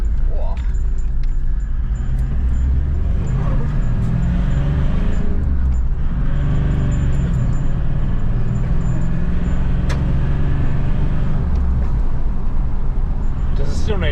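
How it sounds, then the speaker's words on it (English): A Toyota Landcruiser fitted with a throttle controller accelerates hard around a corner, its exhaust droning loud and steady for the whole stretch under road and cabin noise, with voices in the car. "Hopefully you guys can hear that exhaust."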